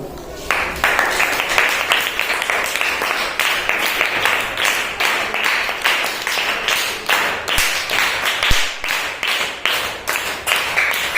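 Third-grade schoolchildren clap in unison in a classroom, a steady run of crisp, evenly spaced rhythmic claps that goes on for several seconds with a few faint voices underneath.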